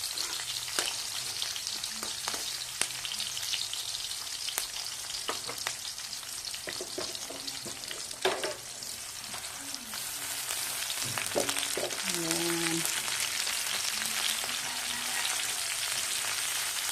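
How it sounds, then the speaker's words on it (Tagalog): Shrimp sizzle and crackle steadily in a hot frying pan, a dense hiss running the whole time with occasional stirring clinks and scrapes, close and fairly loud, with no talking. "Lutuin na natin yung ating hipon."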